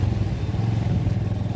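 Motorcycle riding on a road trip from Udaipur, Tripura into Agartala city, its engine giving a close, loud, low throbbing drone with a rhythmic pulse and some clatter throughout.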